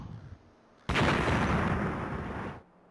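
Explosion in a tank war video game set among snow and trees: a sudden loud broadband blast that erupts and rumbles for well over a second before cutting off, after a quieter stretch.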